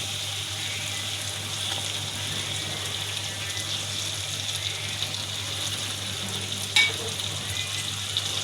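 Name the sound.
pabda fish added to spiced masala, frying in pan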